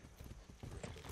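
A horse gallops in Far Cry 6 with a fast, even clip-clop of hooves, fairly quiet and continuous throughout.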